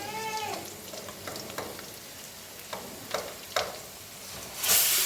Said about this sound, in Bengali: রসুন একটু বাজা বাজা হোক